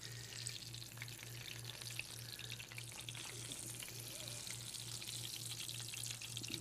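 Food frying and crisping to golden brown in a pan gives a steady, even sizzle with soft crackle throughout, with a low electrical hum beneath and no voices.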